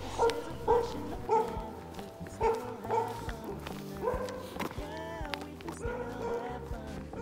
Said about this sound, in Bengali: কুকুরের গেউ গেউ শব্দ শুনে ভয় পাচ্ছিলাম